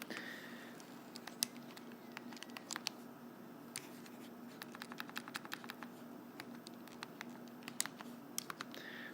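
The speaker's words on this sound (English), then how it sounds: "So typing that into the calculator" Fingers tap numbers into a calculator, a quiet run of soft, quick plastic key clicks in an irregular rhythm over faint room hum, with no speech.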